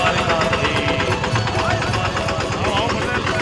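A farm tractor runs in a freshly sown field, its engine giving a steady, loud, close drone throughout, with a voice talking over it.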